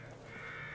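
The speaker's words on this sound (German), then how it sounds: "Hey, ihr blöden Raben." Ravens in the horror game The Evil Within give a brief harsh caw that sounds close and loud within a dense, noisy ambience.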